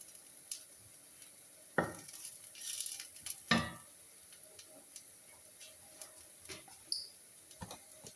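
Onions sautéing in a pan for chickpea curry, with a few scattered stirring scrapes and knocks over a low, continuous sizzle that fades in and out.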